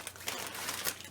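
A brief, soft crinkle of the paper packaging around a fanny pack from TwitchCon 2022 swag, rustling continuously for about a second.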